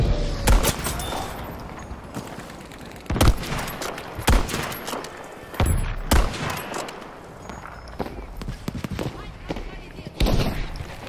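Video game battle on the Pacific Storm map with a Type 99 Arisaka rifle in play: loud, repeated gunfire bursts and single cracks, some near and some distant, keep coming throughout while a voice occasionally speaks.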